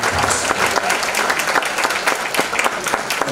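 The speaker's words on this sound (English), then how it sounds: "please join me in applauding the teachers and your incredible leadership" An audience at a high school graduation ceremony applauding, a dense sustained roar of clapping with sharper individual claps standing out and faint crowd voices mixed in.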